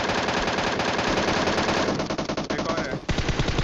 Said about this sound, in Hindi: टाइम आ गया है MK14 निकालने का।